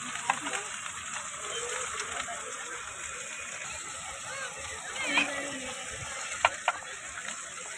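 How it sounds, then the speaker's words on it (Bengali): Fish frying in oil at a beach market stall in Puri sizzles steadily with a bright, even hiss, close and continuous, with a few faint clicks and distant voices underneath. "আর দেখো ফ্রাই হচ্ছে, ফ্রাই করার জন্য অলরেডি বসে গেছে।"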